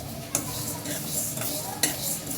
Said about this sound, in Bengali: একদম অল্প আছে মুগ ডালটা ভাজতে হবে